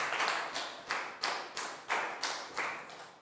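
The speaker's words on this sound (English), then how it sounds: "Big round of applause for Pat." Small group of schoolchildren clapping for a classmate during a Year 4 health lesson, faint and close, in about seven uneven bursts that each swell and fade.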